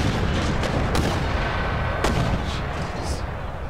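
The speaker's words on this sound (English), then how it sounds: "Did they seriously fire a whole line of volley and got nothing?" Heavy musket volley fire in the video game Empire: Total War with the Darthmod mod, a Mughal campaign battle against Poland-Lithuania: rolling, overlapping gunshot booms forming a loud, continuous roar of massed fire.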